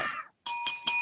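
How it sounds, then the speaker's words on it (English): A bright metallic bell marks the close of a wrestling podcast, struck about three times in quick succession with sustained ringing, just after a brief trailing voice. "There's the bell, so we know what that means."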